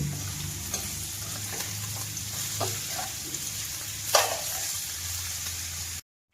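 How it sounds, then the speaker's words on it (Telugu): Cauliflower pieces frying in a pan and being stirred slowly and gently, giving a steady soft sizzle with a few light scrapes and one sharper clatter, with a low hum beneath. "ముక్కల్ని మొత్తం ఒకసారి ఇలా కలిపేసుకుని ముక్కల్ని మనం అలా గబగబ కలపకూడదండి ఎప్పుడైనా సరే చిన్నగా ఇలా కలుపుకోవాలి"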